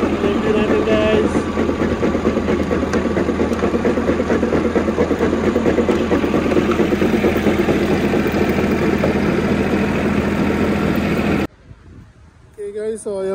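A tractor engine drones steadily at close range in a garden with voices talking over it, then the engine noise cuts off abruptly near the end.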